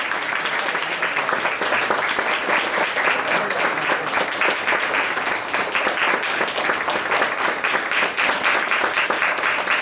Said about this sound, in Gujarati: જે પરિવારજનો આવો અને તાળી એવી પાડો કે આ એનો થાક ઉતરી જવો જોઈએ.